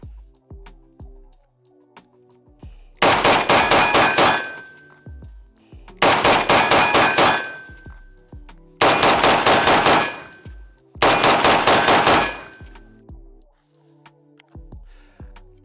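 Four bursts of rapid gunfire at paired targets during shooting training, each a couple of seconds long with metallic ringing, separated by pauses filled with sparse single shots and clangs.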